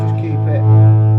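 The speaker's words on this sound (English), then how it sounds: "As you increase it, it almost has a blocking distortion feel to it." KMD GV60 1980s hybrid guitar amplifier with 5881 tubes, driven into a thick, blocking distortion; a sustained, buzzing, loud overdriven guitar tone rings steadily and swells slightly toward the end, with no talking.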